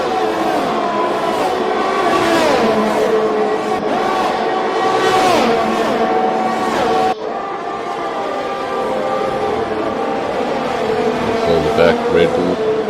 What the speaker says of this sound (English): both those drivers will be hearing the terrible sound of the Ferrari engine in this game